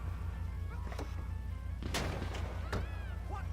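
Gunshots in the video game GTA V: a few sharp, loud reports with a prominent crack near the middle, over a steady low rumble and game noise.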